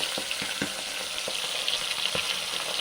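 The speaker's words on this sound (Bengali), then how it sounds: "দুটোকে ভেজে নিতে হবে।" Two fish fry in hot white oil with a constant close hiss, broken by soft intermittent knocks and scrapes of a utensil in the pan, and no voices.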